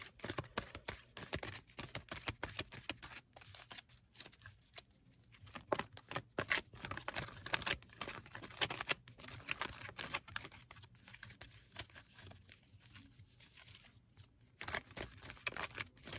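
Tarot cards are shuffled by hand over and over, giving soft, irregular riffling and flicking bursts with short pauses between them. The sound is close, quiet and unhurried, with no talking.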